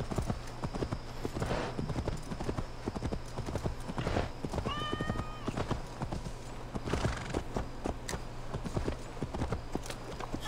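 A horse in Assassin's Creed Valhalla gallops with fast, rhythmic clip-clopping hooves close by, and a short whinny rises midway through the steady hoofbeats.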